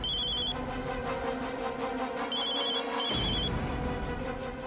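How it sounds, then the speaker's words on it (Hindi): An electronic phone ringtone sounds in bright repeated chiming bursts over a steady background bed, near and fairly loud, with no talking. "जरूरी फोन है,"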